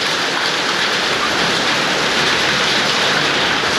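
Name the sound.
hailstorm pounding on a vehicle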